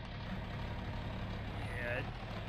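An old tractor in a video game drives along a muddy path, its engine giving a steady, low, heavy drone that stays close and constant, with a faint whine rising briefly near the end.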